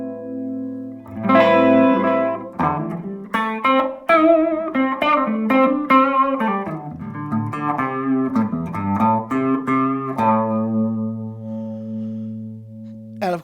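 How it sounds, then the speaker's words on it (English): Electric guitar played through a Hammond Digital Leslie pedal with the overdrive turned up, loud gritty sustained chords and single notes with a swirling rotary shimmer, ringing out alone without talk. "This is overdrive as it is on a Leslie amp. So I'm going to crank that a bit now."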